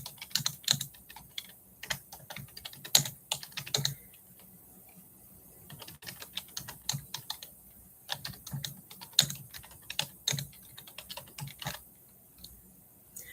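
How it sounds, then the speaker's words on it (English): Quick bursts of typing on a computer keyboard, up close and fairly clear, with short pauses between runs of key clicks and no talking. "I'll type it in here."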